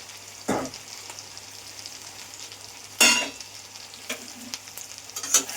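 Soybean curry with pressure-boiled chilies being sautéed in a pan: a steady low sizzle runs throughout, broken by a few louder scraping stirs of a spoon against the pan, with no talking.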